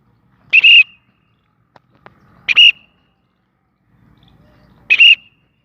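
Pet cockatiel Cookie whistling: three short, bright whistled chirps spaced about two seconds apart, close and clear, with faint rustling between them.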